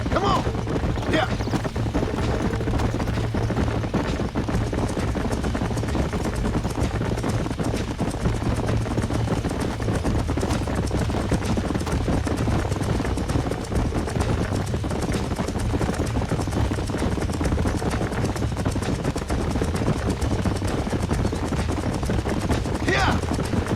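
Horse hooves clip-clop steadily in the Red Dead Redemption video game as a herd is ridden, a dense continuous drumming of many hooves under low rumbling ambience, loud throughout.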